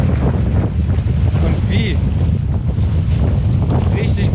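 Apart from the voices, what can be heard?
strong wind blowing outdoors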